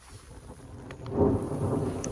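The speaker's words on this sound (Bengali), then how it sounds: "এই দেখেন কিভাবে মেঘ ডাকতেছে" Thunder rumbling over open rice fields in a haor, a single low roll that swells midway and lingers with rain-like hiss, no voices.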